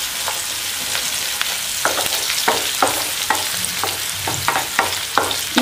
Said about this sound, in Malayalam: ഇനി നമ്മളൊരു രണ്ട് മിനിറ്റ് ഇങ്ങനെ ഒന്ന് ഇളക്കിക്കൊണ്ടിരിക്കണം.